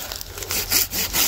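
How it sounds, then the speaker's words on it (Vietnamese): An American-made hand saw cuts through wood in a few rough back-and-forth strokes, close and fairly loud, with no talking. "Cái cưa Mỹ đó trời."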